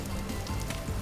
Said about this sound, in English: Obviously, this place is constantly raining.